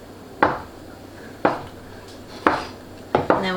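A knife chopping gnocchi dough into pieces on a board, four crisp evenly spaced thuds, the last a quick double strike, close and clear with no talk.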